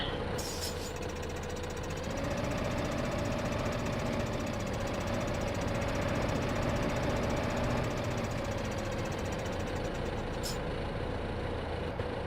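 A farm tractor engine runs steadily in a farming game, a continuous loud knocking drone with a faint rising tone partway through and no speech over it.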